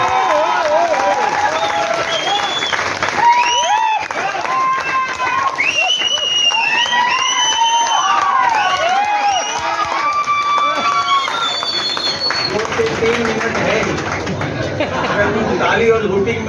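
Loud, sustained clapping and cheering from a crowd at a business seminar in a hotel hall, with whoops and shouted voices rising over the dense applause throughout.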